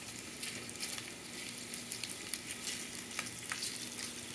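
Cornstarch-coated shrimp sizzle in a pan of hot oil, giving a steady crackle with scattered sharp pops and spatters as they are set in a single layer, with no talking.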